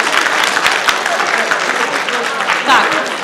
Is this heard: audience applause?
yes